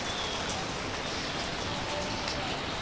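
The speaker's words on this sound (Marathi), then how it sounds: "नुसता पाऊस आहे" Heavy rain pours down in a Konkan village, a dense, steady broadband hiss with no speech, holding the same level for the whole stretch.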